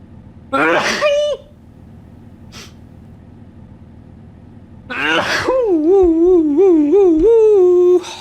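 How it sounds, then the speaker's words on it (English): A single loud close sneeze with a sharp intake before it, followed later by another explosive burst and a long wavering vocal exclamation. "I'm gonna sneeze."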